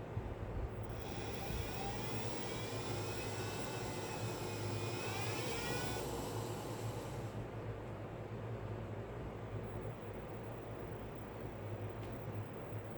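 A 3D-printed 40 W axial flux brushless DC motor with a sensored controller runs with a steady whirring hum, its pitch rising and then falling away over a constant droning background, close and moderately loud.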